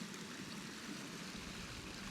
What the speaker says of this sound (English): So I'm just at the bottom of the waterfall